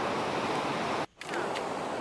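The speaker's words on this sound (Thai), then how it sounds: "คนเล่นเซิร์ฟกันนะคะดูคลื่นนะคะ ใหญ่มากแล้วก็ไม่กรีนค่ะ" Big ocean waves break at an Australian surf beach where surfers are out, giving a loud, continuous wash of roaring surf that cuts out for a moment and then surges back in.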